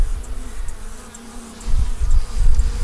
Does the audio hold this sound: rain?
no